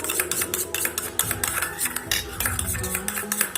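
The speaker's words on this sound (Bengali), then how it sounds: "তিনটেকে ভালো করে মিশিয়ে রাখবো।" Three ingredients for a vegetarian chili soybean dish mixed together in a bowl: quick, close clinking and scraping strokes of a utensil in a steady stirring rhythm, with no talking.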